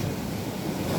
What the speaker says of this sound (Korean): 오 파도 크다.